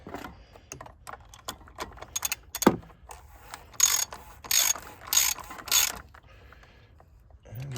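A ratchet fitted with several extensions tightens the oil drain plug on a 2014 Chevy Cruze, giving quick runs of close metallic clicking, then a few louder ratcheting strokes, with light clanks of the tool in between.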